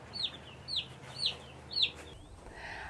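Meat chickens almost fully feathered out, clucking in a barn: four short, fairly close clucks at an even rhythm, then a softer shuffling noise, with no talk.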